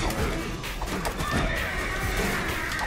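A horse whinnies amid dense, noisy clatter and crashing in the video game Guacamelee, loud and busy throughout.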